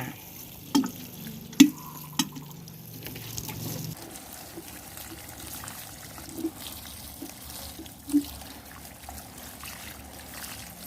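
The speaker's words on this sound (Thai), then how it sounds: "รดน้ำให้ชุ่มฉ่ำเลยค่ะ" Garden plants being watered outdoors, a soft steady trickle and splash of water with a few louder drips and spatters standing out now and then, no voices.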